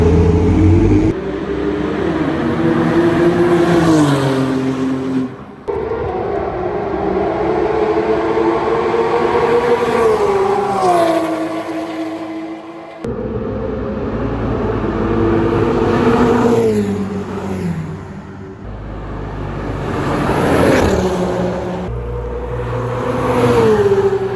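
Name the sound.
expensive cars driving past on a pit lane in Dubai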